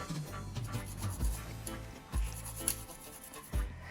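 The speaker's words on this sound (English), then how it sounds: "So I've got 3 pegs of garlic, which I'm going to grate that in my curry" Garlic cloves rubbed against a grater for Jamaican curry goat, a steady rasping scrape near and moderately quiet, with a few heavier thumps along the way.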